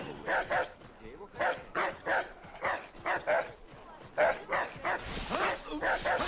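A dog in the video game Assassin's Creed III barks repeatedly at Fort Washington in an even, rhythmic series of sharp yaps at moderate distance, continuing for several seconds.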